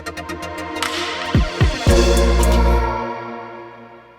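Electronic music swept by a Baby Audio Transit transition effect, with a rising filtered whoosh, a few stuttering low thumps midway, then a swelling bass that fades out, alone without talk.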